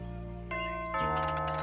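A cartoon doorbell rings in two tonal steps, a bright ding-dong chime standing out against sustained background music, close and clear with no voices over it.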